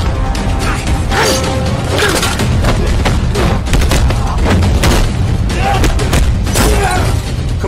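Gunfire and crashing impacts in an action film's fight scene, dense loud shots and bangs over a continuous rumbling score, with voices faintly mixed in.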